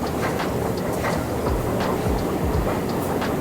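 A Hamburg metro train runs with a steady, close rumble and a few rhythmic rail clacks and thumps beneath the constant roar.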